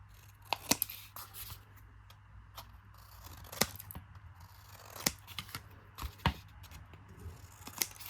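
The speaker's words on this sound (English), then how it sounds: "now I'm just going to trim the little corners off. Cut away your little squares." Scissors snip the small corners off paper squares for a 6x6 ornament album craft, giving a string of sharp, close, separate cuts spaced unevenly across a quiet room with no talk.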